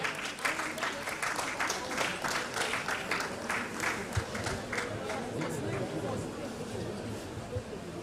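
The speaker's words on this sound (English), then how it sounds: "Please, let's give you a round of applause." Audience applause at a professional management event during a souvenir presentation, sustained clapping from a sizable crowd with faint talk and murmuring underneath.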